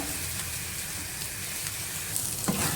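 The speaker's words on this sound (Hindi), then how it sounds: "और सफ़ेद ज़ीरे के साथ इसको मैं हल्का सा फ्राई करूंगी।" White cumin seeds frying in a little oil for a radish chutney: a dense, continuous sizzle up close, with a small clink near the end and no talking.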